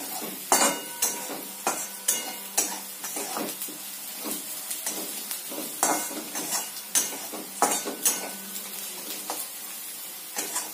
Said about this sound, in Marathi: कांदा छान असं भाजून झाल्यानंतर आपण याच्यामध्ये पोहे परतवून घेणार आहे